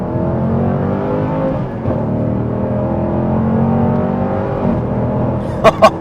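A Dodge Durango SRT 392 SUV driving fast, heard from inside as a steady loud engine drone and road roar throughout, with a few sharp clicks near the end.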